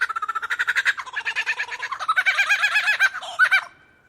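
A lyrebird imitating a kookaburra: a rolling, cackling laugh-like call, loud and close, pulsing rapidly and building into a wavering chuckle before fading out.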